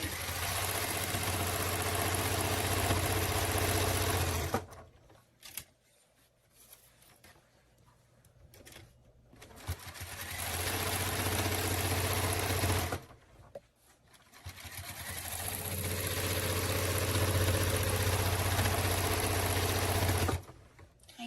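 Domestic sewing machine stitching fabric for a quilted patchwork bow, running in three steady loud bursts with quieter gaps between where the needle stops.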